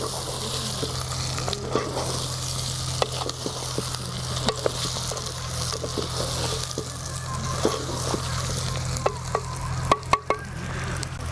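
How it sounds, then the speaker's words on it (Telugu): Okra and prawns frying together in a pan, a steady close sizzle with stirring scrapes and small clicks of a utensil against the pan throughout, a low hum underneath, no talking. "బెండకాయలు కూడా కొంచెం ఫ్రై అవనిద్దాం"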